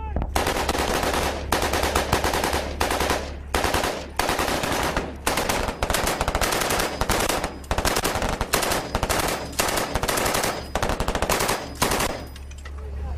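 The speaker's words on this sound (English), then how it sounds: "We make for the safety of the open desert, followed by machine guns and mortars" Machine gun fire in Afghan desert combat, loud, close bursts of rapid automatic shots repeating in tight rhythmic strings with short pauses between them, continuing for over ten seconds.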